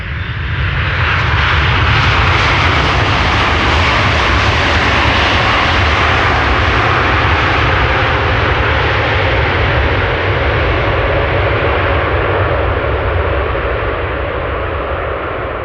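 A Boeing 777 freighter lands at Amsterdam Schiphol with thrust reversers deployed, giving a loud, sustained broadband jet roar that swells early and slowly eases off, with no voices.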